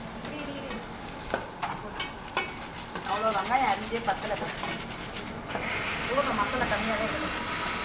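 Onions sautéing in a pan sizzle steadily while a utensil scrapes and stirs in irregular strokes, close by, with people talking over the cooking.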